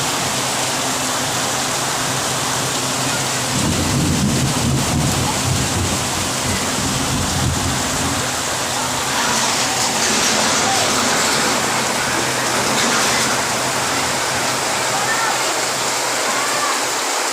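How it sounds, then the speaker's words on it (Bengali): Heavy afternoon rain pours down during a thunderstorm in a loud, steady hiss that swells in the middle, with a voice speaking over it. "দেখেন অজরে বৃষ্টি পড়তেছে।"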